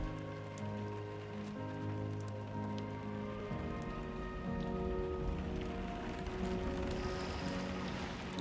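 Steady rainfall patters on surfaces in the Death Stranding 2 video game, a continuous wash of drops with a sustained music-like tonal bed running underneath throughout.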